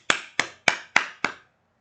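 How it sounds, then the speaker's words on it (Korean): Five sharp, evenly spaced claps in quick succession, crisp and close, then silence. "박수!"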